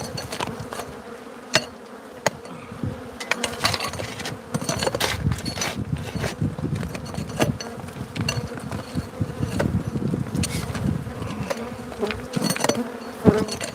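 A dense swarm of bees buzzes continuously and close by, a steady droning hum with many individual insects whizzing past, no talking.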